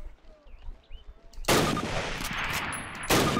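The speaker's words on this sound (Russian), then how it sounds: "подойди к ограждению и сделай 2 выстрела по мишени." Springfield rifle in Call of Duty fires two loud shots at a target on a training range. A quiet stretch comes first, then a sharp crack with a long ringing tail, and a second shot follows about a second and a half later.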